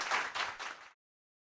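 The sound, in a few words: audience applause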